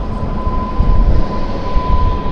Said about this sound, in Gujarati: તો આપણી ટ્રેન આવી ગઈ છે તો તમે જોઈ શકો છો આપણી ટ્રેન આવી ગઈ